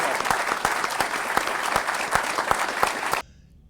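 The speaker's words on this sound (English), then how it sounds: "Ladies and gentlemen, please help me give a round of applause to Mr." Applause from an audience for the Philippine President at a formal event, a loud dense wash of clapping with a few sharp individual claps standing out, cutting off abruptly near the end.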